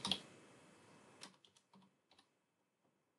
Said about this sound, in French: Je vais mettre une tabulation, la petite touche tab de votre clavier qui est à gauche du A.